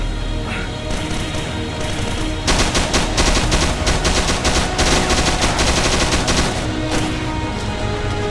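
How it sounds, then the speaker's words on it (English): Machine gun covering fire in a Vietnam war video game, loud sustained bursts of rapid automatic shots layered over a dense, noisy battle background, with no talking. "I'm gonna provide covering fire east."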